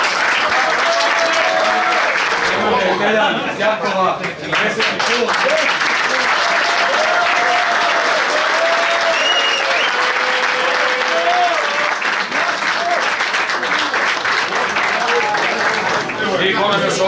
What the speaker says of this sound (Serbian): molim, stavimo aplauz